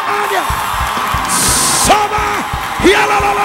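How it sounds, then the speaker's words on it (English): Church congregation at a revival service yelling and shouting in loud, overlapping bursts, with rising whoops and bellows over a continuous crowd din. "Somebody scream. Shout out."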